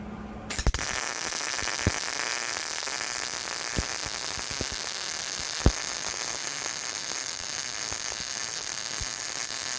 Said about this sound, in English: now it's tacked in place, and we'll weld it all the way